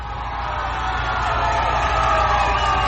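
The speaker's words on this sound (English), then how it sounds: "I appreciate the applause." A large crowd cheers and applauds in a loud, continuous roar that swells slightly over a few seconds.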